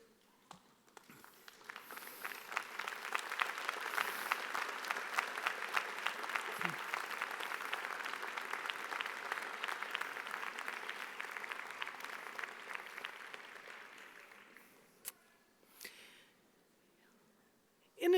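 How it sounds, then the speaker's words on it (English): Graduates at a 2015 School of Public Health and Health Professions commencement ceremony applaud their supporters, steady moderately distant hall applause swelling and holding for over ten seconds before fading out. "offer a round of applause to these supporters"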